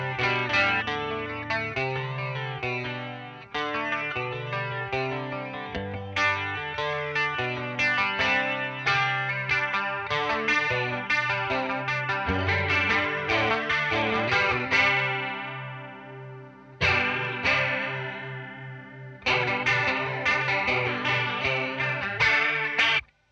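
An electric guitar runs through a Boss CE-1 chorus pedal, playing shimmering chords and melodic lines with lush swirling modulation, close and clear, with brief pauses between phrases and no voices.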